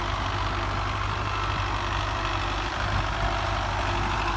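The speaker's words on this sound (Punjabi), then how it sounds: "ਇਹਨੂੰ ਕਹਿੰਦੇ ਨੇ ਵਲੈਤੀ ਟਰੈਕਟਰ।" A Belarus 510 tractor engine idles steadily, a low, even diesel rumble that holds close and constant throughout with no talk.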